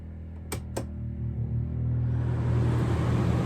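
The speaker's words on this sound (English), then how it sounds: "You can hear the generator outside, at least I can hear it." A WEN 2350 inverter generator runs outside, heard from indoors as a low, muffled rumble that swells gradually louder; two sharp clicks sound near the start.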